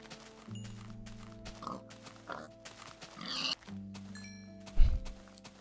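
A pig in Minecraft gives several short, blocky oinks and grunts amid game tones and clicks, with one louder low thump near the end.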